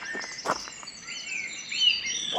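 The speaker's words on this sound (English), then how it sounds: "there's a song thrush right here in the car park." Song thrush singing in a car park: a few bright, repeated whistled and chirping phrases, fairly close and clear over a steady outdoor hum, with no talking.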